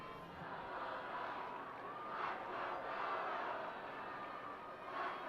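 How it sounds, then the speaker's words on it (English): Stoneham Spartans fans at a 2018 MIAA Division 6 high school football game against Old Rochester make a steady, dense crowd roar with swells of cheering, loud and continuous with no speech. "Listen to that Spartan crowd."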